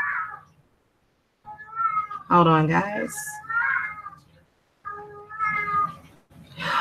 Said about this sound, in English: my cat is really talking.